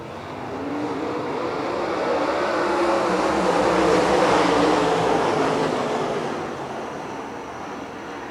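Race cars on the Lernerville Speedway oval roar through the corners in a broad engine rush that swells to a peak mid-clip and eases off again, with no voices over it.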